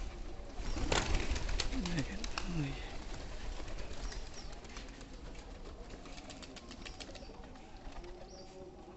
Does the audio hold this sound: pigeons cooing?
yes